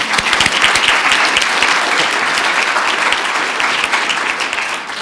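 Loud, sustained applause fills a conference hall on data funding and scaling as the audience claps for an honored labor market economist. The crowd's clapping stays thick and even, easing only slightly at the very end.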